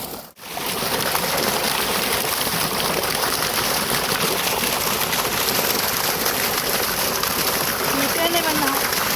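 A tubewell gushes water out into a farm field, a loud, dense, unbroken roar of pouring and splashing that fills the whole stretch after a brief drop at the start, with a voice talking over it.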